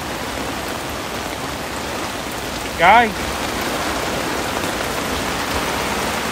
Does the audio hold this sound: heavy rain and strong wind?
yes